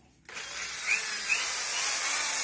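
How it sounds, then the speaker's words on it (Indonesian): An electric drill, rated at 430 watts and powered through a 1000-watt inverter, whirs to life after a short pause and keeps running at a steady, fairly quiet high-pitched whine. "Apakah dia mampu untuk menggerakkan bor listrik?"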